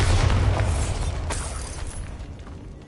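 A Bombarda blasting spell goes off in a video game, a deep booming explosion with crackling debris that rolls and fades away over a few seconds.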